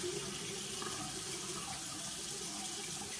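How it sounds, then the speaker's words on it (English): Tap water runs steadily at a sink while beard product is lathered, a continuous close hiss and splash with no talking. "I'm putting a little bit more water on here."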